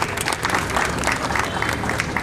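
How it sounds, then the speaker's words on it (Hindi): An audience at a World Cancer Day awareness event claps to welcome a doctor, uneven applause from a modest crowd with some murmuring voices underneath. "जोरदार तालियों से स्वागत कीजिए।"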